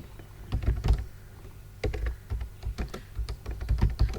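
Keys clack on a computer keyboard as slide notes are typed into a PowerPoint notes area, arriving in quick irregular bursts separated by short pauses, close and fairly loud with no talking.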